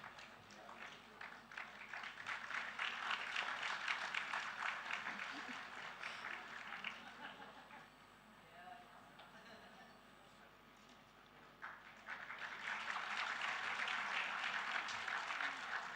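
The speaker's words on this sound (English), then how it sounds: "Let's give a big round of applause as we celebrate the brilliance and potential of this talented individual." An audience at a school's 20th Founders' Day claps for a student, with two swells of applause separated by a quieter dip, heard at a distance and fairly faint.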